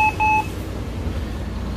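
An OV-chipkaart card reader beeps as a passenger checks out of a bus: two short, bright electronic tones in quick succession, followed by engine rumble.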